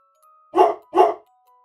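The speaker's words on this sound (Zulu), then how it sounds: "Inja." A dog gives two loud, clear barks in quick succession, alone against silence.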